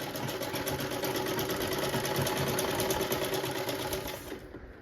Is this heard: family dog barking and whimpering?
no